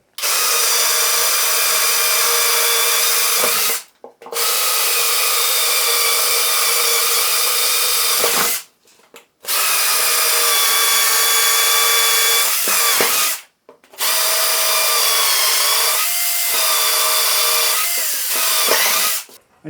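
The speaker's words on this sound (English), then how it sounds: "I can use the base as a table and I can just simply drill straight through." A power drill bores straight through a wooden base in four long, loud, steady whining runs, each separated by a short pause.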